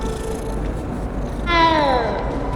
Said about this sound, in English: Aw, but the cute little cat.